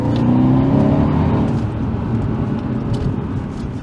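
Mercedes C63 AMG W205 engine pulling hard under acceleration, a loud, close, throaty roar that surges and then eases slightly as the gears change, with no talking.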